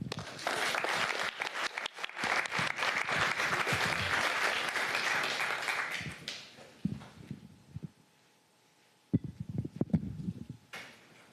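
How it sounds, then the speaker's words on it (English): Audience applause at an Augusta county commission meeting: a loud, sustained round of clapping for about six seconds that tapers off into a quiet room with a few scattered knocks and shuffles. "one more round of applause"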